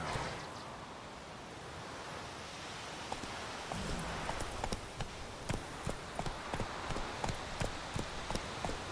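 Hooves of Roach, a horse in a video game, clopping at a quickening rhythm over a soft wash of ambient noise, the footfalls growing crisper and more regular toward the end.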